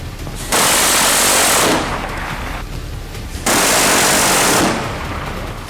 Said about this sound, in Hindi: चाइनीज सैनिक मशीन गनों से ताबड़तोड़ गोलियां दाग रहे थे।